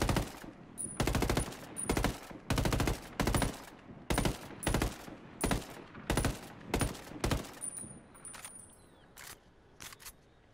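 An unsuppressed assault rifle in Ghost Recon Wildlands fires in a string of short, punchy automatic bursts, close and loud, spaced about half a second apart and tapering to single shots near the end.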